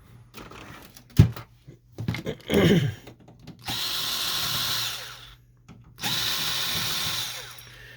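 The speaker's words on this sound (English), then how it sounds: "Then we're going to remove the 4 screws right here." A power screwdriver backs out screws from a Samsung CLP-365W-series printer fuser unit: a few handling knocks and clicks, then two whirring bursts of a second or so each, close and loud, with no speech.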